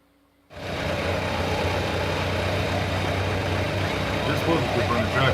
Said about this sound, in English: This was a good running tractor.